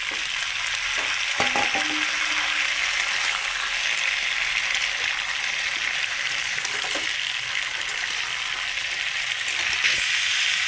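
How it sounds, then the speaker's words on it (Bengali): Cauliflower, potato and peas fry together in a pan with browned onion, making a loud, dense, unbroken sizzle close up, with a few faint utensil knocks and no talking. "কপি আলু আর মটর কমসে কম 5 মিনিটের মতন আমি ফ্রাই করে নিচ্ছি এইভাবেই"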